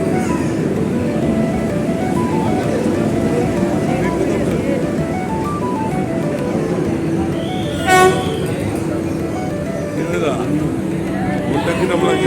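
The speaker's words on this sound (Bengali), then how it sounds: "আমাদের ট্রেন ঢুকছে বন্দে ভারত" A Vande Bharat train pulls into a station with a steady rolling rumble and one short horn toot midway, heard close and loud while people talk nearby.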